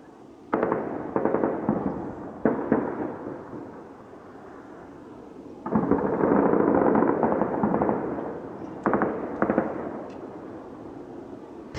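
Gunfire rings out during an armed clash in Hakkari, with bursts of sharp cracks and sustained rattling volleys echoing at a distance, separated by short pauses.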